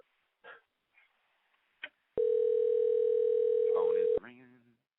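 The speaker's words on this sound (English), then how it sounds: "Phone is ringing." A steady electronic ringback tone sounds on an outgoing phone call for about two seconds, loud and continuous, after a few brief clicks and ahead of speech that starts as it ends.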